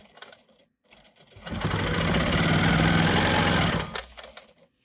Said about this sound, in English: I'm going to go ahead and quilt my diagonal lines here.